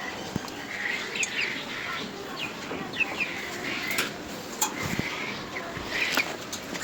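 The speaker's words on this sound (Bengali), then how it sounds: "আমার 4টা টাইগার মুরগি এখানে ছেড়ে দিয়েছি।" Four tiger chickens roaming an open yard give soft clucks and chirps that come and go in short bursts over faint background noise, at moderate distance.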